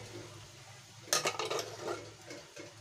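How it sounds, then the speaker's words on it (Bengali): A spoon stirs a shrimp and vegetable curry in a pot, giving a brief cluster of faint scraping and clinking strokes over a low background hum. "এবারে এটাকে আমি ভালো করে নাড়িয়ে মিশিয়ে নেব।"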